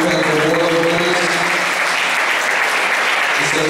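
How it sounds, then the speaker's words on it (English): A community meeting audience claps steadily and evenly throughout, a thick wash of applause for community members and the board of directors, with faint voices mixed in underneath. "please give a round of applause to all of our community members and board of directors"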